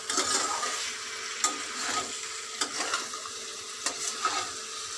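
Jackfruit stir-fried with spice paste in a hot pan: a steady close sizzle and crackle, with several sharp spatula scrapes and knocks against the pan, and no voices.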